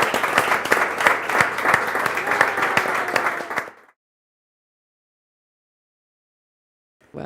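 Lively applause from a conference audience at the Anesthesiology 2023 annual meeting, bright dense clapping for about three and a half seconds, then cut to silence.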